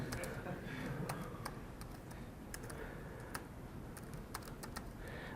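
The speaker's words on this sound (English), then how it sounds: "Maybe you can hear from the way I'm typing what my password is" Faint typing on a computer keyboard during a VPN setup, scattered soft key clicks in an irregular rhythm over a low steady background hum, quiet and slightly distant.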